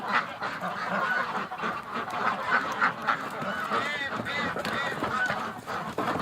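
A crowd of ducks calling inside a barn in winter, a continuous excited chorus of honking quacks that rises and falls without pause.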